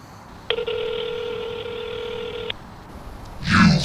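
A telephone ring tone played over a speakerphone: one steady, electronic tone lasting about two seconds, fairly loud and close. A short burst of other sound follows near the end.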